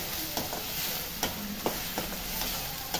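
Ground fennel and coconut sautéing in oil for a karunai kizhangu (elephant foot yam) dish, a soft steady sizzle broken by several light scraping stirs of a spoon, close and unaccompanied by talk.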